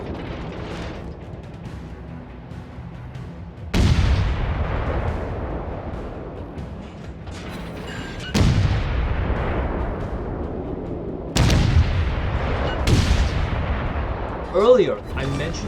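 Heavy ship guns firing in World of Warships during a cruiser-versus-destroyer naval battle, deep booming salvos every few seconds with long rumbling decays, loud and close, with faint game sounds between.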